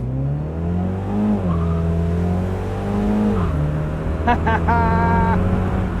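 A 2022 MINI Cooper John Cooper Works Convertible accelerates hard from a stop, its engine climbing in pitch through two gear shifts with a brief tire chirp, heard from inside the car.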